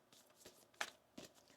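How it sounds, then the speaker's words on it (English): A deck of Moonology oracle cards being shuffled by hand, giving several quiet papery riffles and flutters, one sharper burst near the middle, with no talking. "Let's get one more shuffle here."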